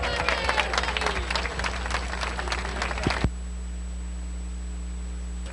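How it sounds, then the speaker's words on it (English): An audience at Northfield Park harness track applauds world champion horse Falcon Seelster after the 1986 Battle of Lake Erie race, a steady crowd clapping that stops abruptly, leaving only a low electrical hum. "One last round of applause for world champion Falcon Seelster."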